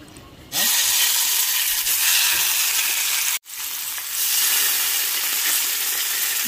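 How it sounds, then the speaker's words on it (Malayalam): Sardines fry in a pan with a loud, steady broadband sizzle and hiss that starts abruptly, cuts out for an instant partway through, then resumes just as strong. "അപ്പം മീൻ ഫ്രൈ ആയിട്ടുണ്ട്"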